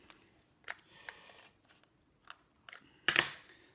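A small hand tool pierces a carp fishing boilie, giving a few faint, sparse clicks and scrapes followed by one sharper, louder crack near the end.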